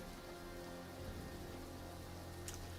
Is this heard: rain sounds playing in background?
yes